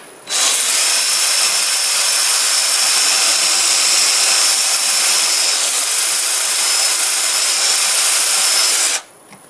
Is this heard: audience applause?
no